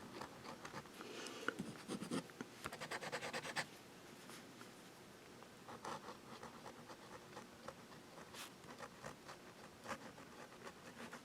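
A Platinum Cool fountain pen scratches across paper in quick bursts of strokes, faint and close, with short rhythmic scribbles separated by pauses.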